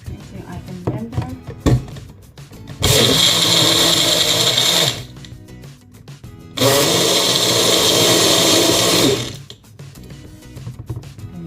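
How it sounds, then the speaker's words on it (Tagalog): A kitchen blender mixes a chocolate ice cream shake in two loud bursts of several seconds each, a steady roaring whir separated by a pause, with quieter talk and handling noises before, between and after. "Ito yung ating blender."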